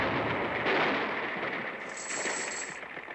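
A cartoon cannon fires, giving a broad, noisy blast that rolls on as a long rushing burst, loud and dense, followed by a thin high ringing tone.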